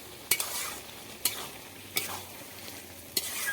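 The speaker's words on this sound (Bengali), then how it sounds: "যেই মাছ চিংড়িটা ভেজে রেখেছিলাম সেটাই দিয়ে দিচ্ছি নেড়ে চেড়ে মিশিয়ে দিচ্ছি" Fried shrimp tossed into spinach in a pan and stirred, giving four sharp spatula scrapes against a low background sizzle, close and fairly quiet.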